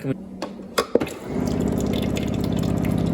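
After a few clicks and knocks, water begins trickling steadily into a cup from a refrigerator water dispenser, a close, continuous gurgling stream.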